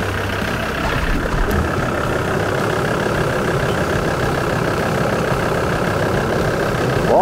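SsangYong Rodius engine idling as it warms up, with exhaust smoke drifting back and the vehicle shaking; a steady, loud, low rumble holds throughout without any break.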